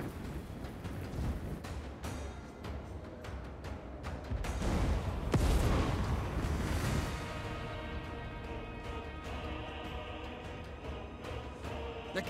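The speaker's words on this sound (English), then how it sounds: "The cannons rain death." Rumbling cannon artillery fire in a Total War Warhammer 3 battle, a dense continuous barrage with a heavier swell of booms near the middle amid a constant battlefield din.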